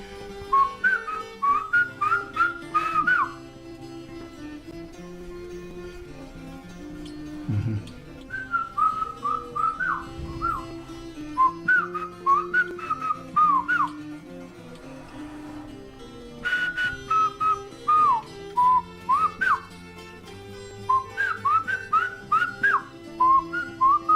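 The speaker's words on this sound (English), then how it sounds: "Then Marcelino's job is to whistle the instructions to Pedro." Chiapan Chinantec whistled speech carries spoken instructions in a series of clear, pitched whistle phrases with pauses between them, loud and close, with no talking alongside.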